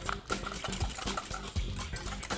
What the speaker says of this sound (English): I'll keep whisking that.